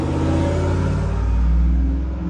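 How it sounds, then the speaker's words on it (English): A loud truck passes outside, a steady low rumbling engine roar that swells slightly and fills the whole stretch, with no talking. "Excuse the loud truck."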